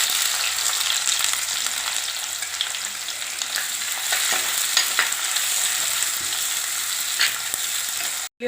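Chopped small shallots fry in hot oil with fenugreek seeds, a steady, close, bright sizzle with occasional crackles and stirring scrapes, continuous and without speech.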